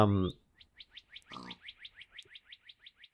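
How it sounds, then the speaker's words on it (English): Small bird chirping outdoors in a repeated series of short, bright tweets at a steady rhythm, moderately close, with a brief burst of other noise early on and no talk over the calls. "I hear you, bird."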